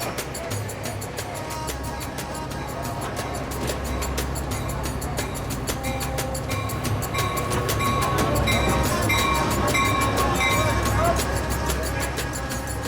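A night train in Egypt rumbles steadily with rhythmic clicking and clatter from the rails, a continuous mechanical drone with people talking faintly underneath.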